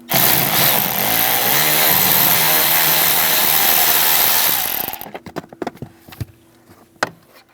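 A 6mm socket driven by a power tool backs out a bolt on a 1998–2010 Volkswagen Beetle, where the blower motor resistor is being replaced: a loud, continuous buzzing whir for about five seconds, then a few scattered metallic clicks and clanks.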